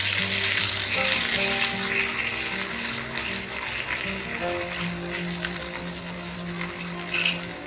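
Oats dosa cooks on a hot pan with a soft, continuous sizzle beneath steady background music tones, close and even throughout.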